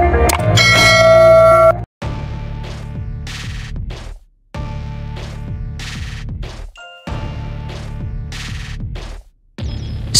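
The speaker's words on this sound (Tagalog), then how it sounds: "i-hit ang notification bell" Bell chimes for a subscribe notification ring out in three or four bright, sustained strikes, each decaying for about two seconds before a short silence and the next.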